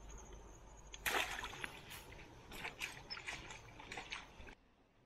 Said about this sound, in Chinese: 这个渔网又脏了，洗一下